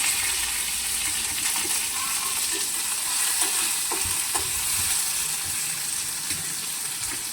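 Curry leaves and crushed garlic sautéing in oil for dal khichdi, with a dense, even sizzle that runs steadily, plus a few faint stirring taps.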